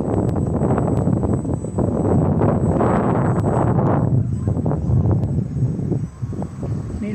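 Strong wind off a river roars and buffets loudly and continuously, with a deep gusting rumble that swells and eases slightly near the end.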